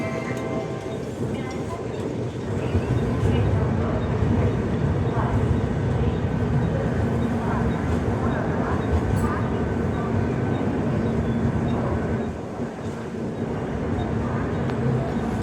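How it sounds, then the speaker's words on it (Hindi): The 15279 Poorabiya Express passenger train rumbles along after pulling out of Moradabad, a loud, continuous rolling roar with rattling carriages that dips briefly near the end. "मुरादाबाद से तो खुल चुकी है ट्रेन हमारी"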